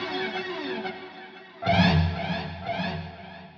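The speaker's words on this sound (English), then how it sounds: "here's our lead tone with everything running in series with over dramatized spatial effects of our delay and our reverb." An electric guitar lead tone run through delay and reverb in series plays sustained notes with a long, washy echo tail, and a louder attack midway blooms into repeating trails.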